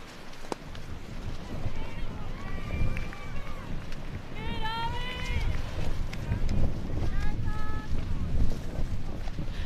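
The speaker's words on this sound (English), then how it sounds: "This is windy. That was a gust." Strong gusty wind buffets the microphone at an outdoor cricket ground during a women's T20 cup semi-final, a steady low rumble that swells in gusts beneath nearby commentators talking.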